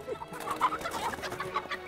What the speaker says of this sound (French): Elle est pas belle la petite poule?